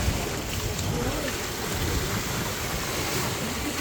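Large ocean waves surging suddenly near a house by the sea, a loud continuous roar of surf and rushing water with wind buffeting the microphone throughout.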